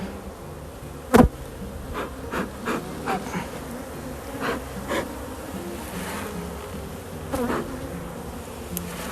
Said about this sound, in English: Dozens of bees.